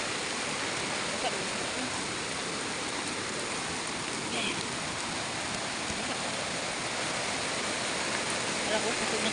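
Strong floodwater rushes past in a steady, close broadband roar that holds at an even loudness throughout, with no break in the flow.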